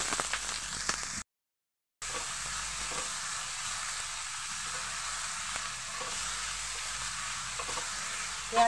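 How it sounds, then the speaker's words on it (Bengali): Onions frying in hot mustard oil, a steady close hiss and sizzle that runs unbroken apart from one short gap near the start. "পেঁয়াজটাকে 2 মিনিট ভেজে নেব।"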